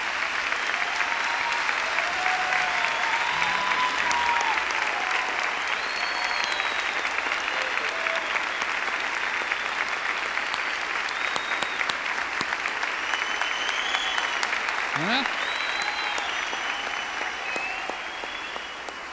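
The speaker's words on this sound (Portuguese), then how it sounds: "É para aplaudir porque é para Deus" Sustained applause from a church congregation, a dense steady patter of many hands clapping for the whole stretch, with faint voices mixed in.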